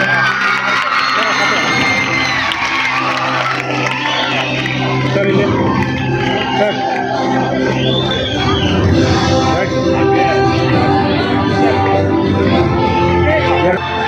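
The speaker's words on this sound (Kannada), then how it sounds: "ಜೋರಾದ ಚಪ್ಪಾಳೆ" Loud crowd noise fills a prize-giving ceremony held by Dr. Babasaheb Ambedkar Vidyavardhaka Sangha in Cowl Bazaar, Ballari, with a steady roar of clapping, cheering and whoops from a crowd that includes children, plus voices, lasting throughout.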